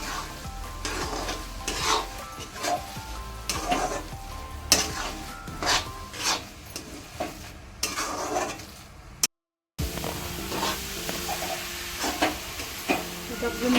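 Thick fresh coconut barfi mixture is stirred in a pan for several minutes, with a steady scraping and gentle sizzle that runs through with a short gap near the middle, and there is no talking.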